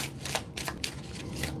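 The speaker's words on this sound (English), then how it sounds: "I'm going to shuffle again." Tarot cards being shuffled close up, a quick series of soft riffling flutters, quiet and alone.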